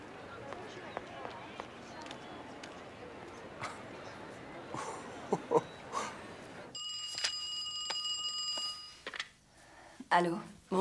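A telephone rings in a French-dubbed 1994 drama film, a bright trilling ring burst lasting about two seconds partway through, standing out over a quiet, hissy room background.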